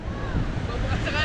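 Ocean waves and surf wash against a small fishing boat at sea, a loud, constant churn with wind buffeting the microphone.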